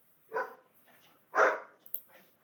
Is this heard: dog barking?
yes